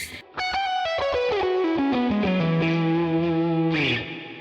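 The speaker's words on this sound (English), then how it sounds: "It's really just a fast descending major pentatonic run" A distorted electric guitar rips through a quick descending major pentatonic run, ending on a sustained low tone with a bright scrape at the end.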